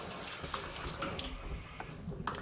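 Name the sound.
water rinsing home brew wine buckets and equipment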